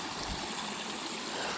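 Stream water rushes steadily outdoors, filling the scene with a loud, even hiss and gurgle and no other sounds.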